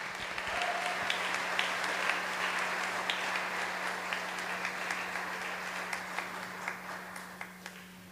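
Sustained audience applause at a church service, a steady wash of many hands clapping for about eight seconds with no talking over it, at a moderate, fairly distant level.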